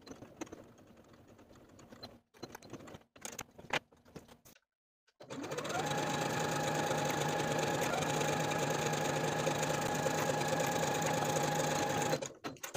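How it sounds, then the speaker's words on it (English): A sewing machine stitching the center back seam of a bodysuit: a few short bursts of stitching with pauses, then a long, steady, close run of even machine whirring that stops near the end. "After about the first 3 inches, I'll switch back to my regular presser foot to stitch the remainder of the seam all the way to the bottom"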